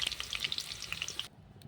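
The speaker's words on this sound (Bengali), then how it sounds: "আলুটা ততক্ষণ একটু ভাজা হোক" Potatoes frying in a pan over a wood-fired clay stove, a steady crackling sizzle with scattered bright pops that cuts off abruptly near the end.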